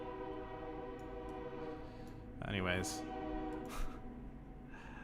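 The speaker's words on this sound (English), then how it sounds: "let's hear the train" A train passes near railway tracks beside a home, rumbling at a distance beneath a person talking, with one short horn blast sounding midway.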